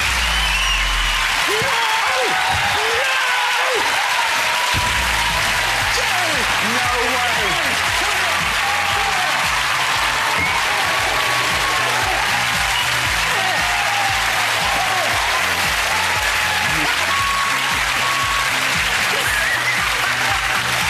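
A studio audience at a live Saturday night entertainment show breaks into sustained applause and cheering, dense clapping at steady volume over the whole stretch, with voices speaking and calling out over it.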